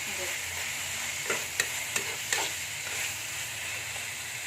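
Tomatoes frying in a pan for egg bhurji, a steady low sizzle with a few sharp spoon taps against the pan near the middle, close and fairly quiet.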